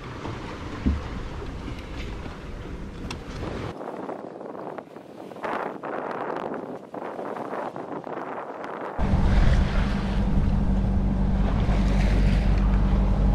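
Wind buffets and water rushes past a sailboat under genoa, then its steady low engine drone comes in loudly for the final few seconds.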